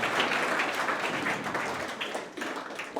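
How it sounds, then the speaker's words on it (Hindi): Loud, dense applause from schoolchildren at a motivational programme in a government senior secondary school hall, a steady wash of clapping lasting throughout without pauses. "जोरदार तालियां।"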